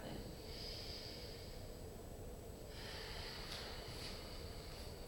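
Deep breathing during a yoga exercise, steady airy breaths through the nose with a snort-like edge, close and continuous, no talking.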